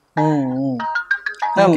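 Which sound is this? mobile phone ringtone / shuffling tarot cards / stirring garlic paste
mobile phone ringtone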